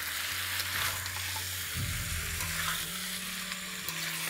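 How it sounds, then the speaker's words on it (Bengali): Fried potato and boiled jackfruit are sautéed on a medium flame, giving a soft sizzle with scraping stirs and clinks, fairly quiet and close, over a low background hum. "তারপর ফ্লেমটাকে মিডিয়াম রেখে রেখে ভালো করে একবার কষিয়ে নিন।"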